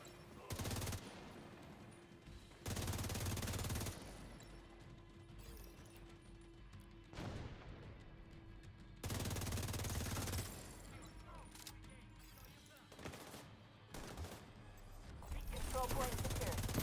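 Video game gunfire comes in short, dense automatic bursts fired from cover and out of cover, several separated volleys at a steady clip over a quiet background hum, with a brief voice near the end.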